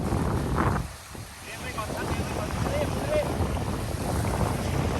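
Strong, gusting wind blows across the Sirindhorn dam reservoir at a lakeside fishing and camping spot, buffeting the microphone in a continuous rough roar with one brief lull early on.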